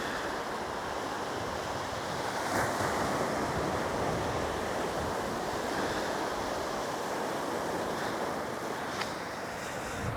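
Ocean surf washes steadily onto a shore at sunrise, a continuous broadband roar with gentle swells and some wind buffeting on the microphone, no voices.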